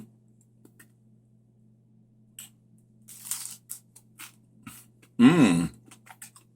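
A bite into a crispy sweet potato hash brown gives one sharp, close crunch near the end, after a few faint chewing and mouth sounds over a low steady hum.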